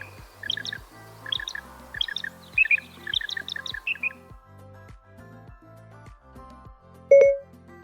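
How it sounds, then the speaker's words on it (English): Northern mockingbird song played back by Siri, a quick run of repeated bright chirps and squawky trills in short bursts over faint rhythmic background noise, ending with a single electronic tone. "A northern mockingbird sounds like this."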